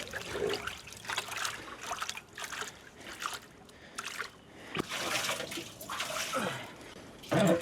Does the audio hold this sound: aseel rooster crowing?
no